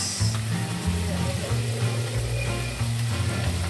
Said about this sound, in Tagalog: gisa-gisa ng ating sibuyas